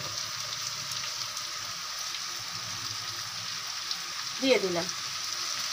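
Ground spices with ginger garlic paste frying in a pan, a steady close sizzle throughout, with a short spoken phrase over it toward the end.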